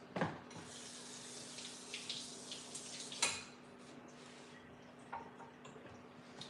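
A jar lid is rinsed under a running kitchen tap, with steady water flow and occasional clinks and knocks of the lid against the sink, heard close and without talking.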